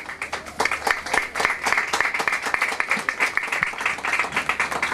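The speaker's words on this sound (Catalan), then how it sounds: "Un aplaudiment per a ells." An audience at an outdoor festival pageant honouring Seidia claps for costumed characters, dense rapid clapping from many hands, loud and continuous for about five seconds.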